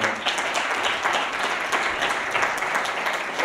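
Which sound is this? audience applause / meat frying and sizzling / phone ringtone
audience applause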